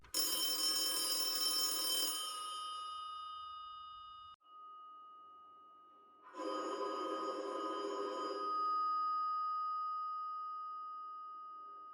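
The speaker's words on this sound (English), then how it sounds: "the phone at the nurse's station started to ring" A telephone rings at a nurse's station in an old hospital wing, two clear bursts of bright electronic ringing about two seconds each, separated by a quiet gap, with a lingering tone between.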